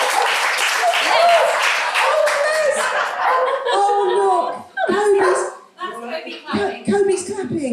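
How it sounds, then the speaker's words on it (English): Clapping at a Christmas office party, a burst of hands clapping at close range that fades as people chatter and laugh, with a dog barking nearby. "clapping"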